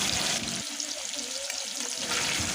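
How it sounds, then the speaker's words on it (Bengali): Paneer pieces fry in a pan with a pinch of salt, a steady close sizzle and hiss broken by light stirring scrapes, with no talking. "অল্প সামান্য একটু নুন দিয়ে পনিরটাকে ভেজে নেওয়া হচ্ছে"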